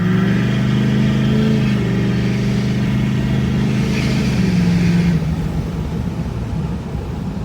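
A 2011–2016 Ford Super Duty with a 6.7 Powerstroke diesel and a cold air intake revs loudly close by, engine pitch climbing and holding before easing back toward idle.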